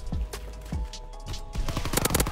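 A PPSh submachine gun fires in Call of Duty WWII in rapid, close bursts, the rattling shots crowding together into loud runs of automatic fire.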